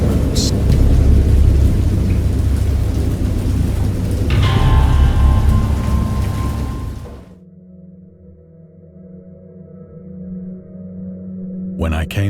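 Loud thunderstorm with heavy rain pours close by, a rumble of thunder building midway, then the downpour drops away before rain briefly returns at the end.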